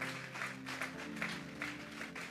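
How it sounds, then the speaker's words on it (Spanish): Church congregation clapping together during a Sunday service, a steady soft wash of many hands applauding at a distance, with no voices over it. "Vamos a darle una ofrenda de palmas a Dios en esta hora."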